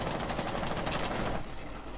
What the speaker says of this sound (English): Shooting up cash window.